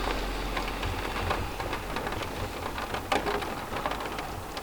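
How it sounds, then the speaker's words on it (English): Steady rain drums on the roof of a camper van parked in Scotland, a dense continuous patter with occasional louder drops, close and even throughout with no voices. "there's something pretty special about the sound of the rain on the roof and a crackling fire"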